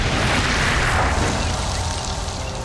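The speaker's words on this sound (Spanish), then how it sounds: "¡Explosión controlada lista!" A controlled detonation of a landmine during demining work: a dense, sustained roar of broadband rumble that stays loud across the whole span and fades slightly near the end, with no speech over it.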